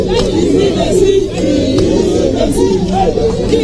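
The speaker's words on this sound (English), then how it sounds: "The crowd is getting uncontrollable here." Loud, dense crowd noise at a political press event, with overlapping voices and shouting forming a continuous wall of sound throughout, no single voice standing out.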